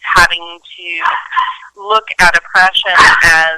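A dog barks indoors during an interview, with sharp yips and barks mixed in among a woman's ongoing speech, close and fairly loud.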